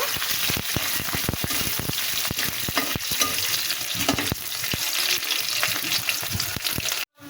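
Onion, garlic, bay leaf and a dried chili fry in hot oil in a pan, a loud steady sizzle broken by frequent spoon scrapes and clacks as the spices are stirred, close, cutting off abruptly at the end.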